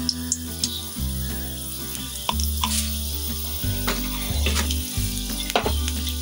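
Peas fry in ghee with a bright crackling sizzle and scattered pops, over a steady tonal hum.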